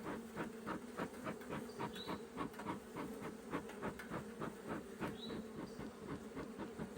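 Honeybees swarm around a hive with strong activity at the bottom, a dense, steady buzz that stays close and continuous with no pauses throughout.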